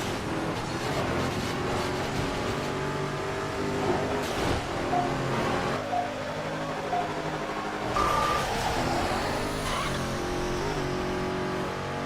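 Engines racing in Midnight Club 3, a circuit race against Dodge Vipers, with sustained revving and shifting engine roar, rising and falling pitch, and occasional electronic beeps over a continuous game mix.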